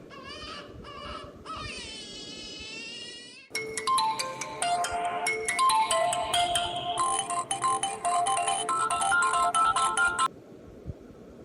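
A mobile phone plays a ringtone during a call: a short warbling chirp sequence first, then a busy, bright electronic melody that runs for several seconds before stopping, close and loud with no talking over it.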